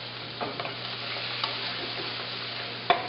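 Shrimp sautéing lightly in a pan, a soft steady sizzle with a few scattered clicks of stirring and one sharper clack near the end, close and quiet with no talking.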